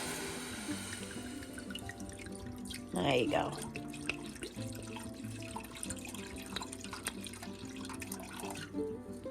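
Merlot wine pours briefly into a pot with a gurgling splash, loud for a second, amid quiet room noise and a short spoken remark.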